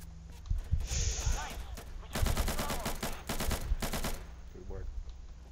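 Automatic gunfire in the video game Insurgency, several rapid bursts of shots with a longer sustained burst in the middle, loud against a noisy background, with a voice talking at times.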